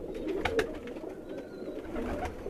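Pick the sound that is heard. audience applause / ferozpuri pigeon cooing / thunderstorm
ferozpuri pigeon cooing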